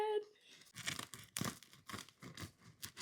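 A knife saws through the crackly crust of freshly baked sourdough loaves with slightly burnt bottoms, giving close, crisp tearing and crunching bursts in an uneven rhythm with no talk.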